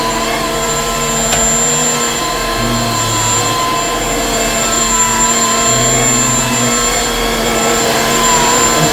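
Vacuum cleaners running indoors, a steady loud mechanical whine with a constant motor hum and faint tonal overtones, continuing without pause and with no voices.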